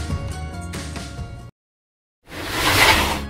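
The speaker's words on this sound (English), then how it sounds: "That's the sound of a cooler coming down off the shelf." A cooler slides down off a shelf in a broad, rushing scrape about a second long. It comes after a brief gap of silence that follows a stretch of music.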